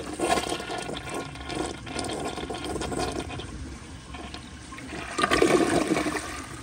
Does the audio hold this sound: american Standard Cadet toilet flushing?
yes